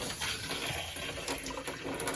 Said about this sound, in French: on arrête notre pompe, on ouvre un robinet.